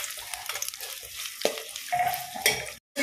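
An onion fries in leftover ghee in a pan for chicken biryani, a loud crackling sizzle with stirring clatter, ending in a brief dropout before the sizzle resumes.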